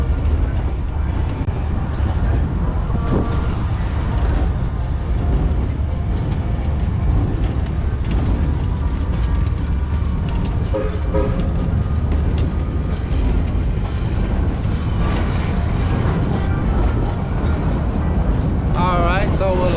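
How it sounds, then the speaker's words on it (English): Aboard the Georgetown Loop Railroad, a heritage train ride in view of I-70, the carriage rumbles steadily with creaks, clanks and ratcheting mechanical rattles of the cars and track, a continuous close-up clatter throughout. "Alright, so we're like 5 minutes into this train ride"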